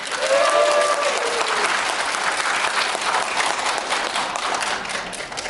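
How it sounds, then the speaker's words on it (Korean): Audience applause breaks out at a candidate's speech for a union officer election in Gwangju, a dense, steady wash of clapping from a large crowd that holds loud throughout, with a faint whistle or tonal cheer early on. "박수 한번 주세요."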